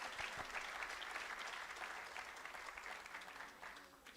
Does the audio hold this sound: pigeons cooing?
no